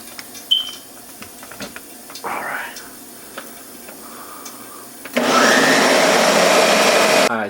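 Blender whirring loudly while blending tomato sofrito sauce, a sustained buzzing motor run of about two seconds after scattered clinks, brief handling noises and a short earlier whir.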